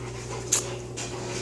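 A dog pants quietly in short rapid breaths, faint and close over a steady low hum, with one brief sharper sound partway through.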